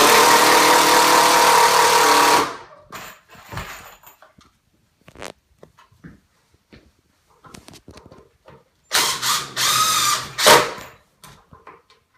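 A drill runs loudly for a couple of seconds boring holes into a bed frame, stops for scattered clicks and clatter, then whines again in a shorter burst.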